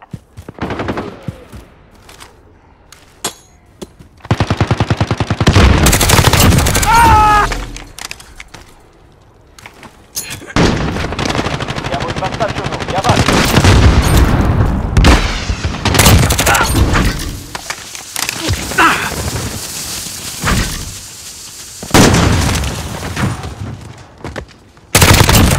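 Bursts of rapid automatic gunfire and single shots in a Call of Duty team deathmatch video game, loud and close, coming in several long volleys separated by brief quieter gaps.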